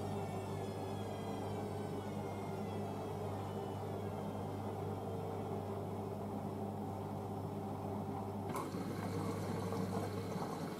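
A Bosch VarioPerfect WAK28260GB washing machine draws in water for its final rinse on a Cottons 90 prewash cycle, a steady close rushing hiss with a low hum that shifts slightly near the end, no voices.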